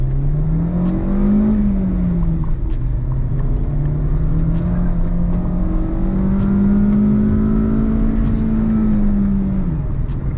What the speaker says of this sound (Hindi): AC यहाँ पर ऑन है, करते हैं 5000 RPM तक रैव